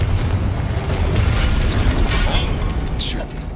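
A Confringo spell explodes in the video game Hogwarts Legacy, a loud, sustained rumbling blast with crackling debris that fills the whole moment before easing slightly at the end.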